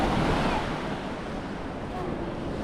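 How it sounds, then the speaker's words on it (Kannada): Sea waves wash continuously onto Paradise Beach in Pondicherry, a loud broad surf roar with wind buffeting the microphone. "ಅಲೆಗಳ ಬಂತು, ಅಲೆಗಳ ಹೋಯ್ತು"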